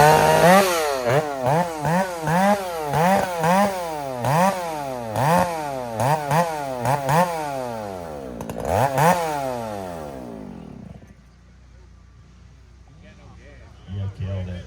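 A vintage chainsaw at a saw competition cuts a log, its engine loud and near, surging up and down in repeated revs before dying away to quiet.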